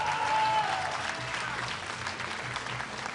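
Audience applause fills the hall at an esports finals event, a loud, steady wash of clapping from a large crowd that carries on without pause, with faint voices mixed in.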